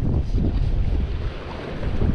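Strong wind blows steadily across a lake during a winter fishing outing, a loud, continuous low roar with gusts buffeting the microphone and no voices.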